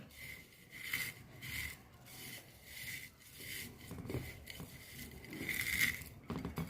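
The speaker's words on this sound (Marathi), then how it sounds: "आणि सगळं व्यवस्थित कालवलं" Hands mixing papad chaat, crushed papad tossed with onion, grated coconut, chili powder, salt and a tempering, give a steady close rubbing and crunching rustle in uneven strokes throughout.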